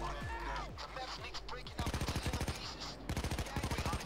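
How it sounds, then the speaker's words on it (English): Payday 2 gunfire: rapid automatic bursts in two clear strings, preceded by several scattered single shots and thumps, fairly loud and close. "You throw another grenade."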